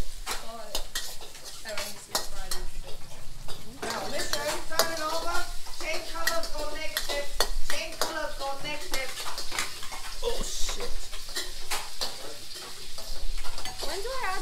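Herbs shallow-fry in a wok with a steady, close sizzle, while a spatula stirs and scrapes against the metal in repeated clatters, under a background of voices talking.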